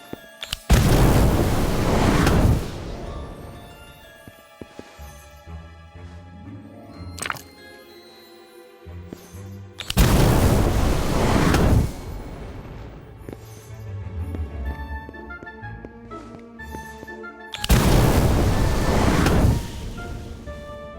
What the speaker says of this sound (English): Try casting Incendio beneath each cauldron.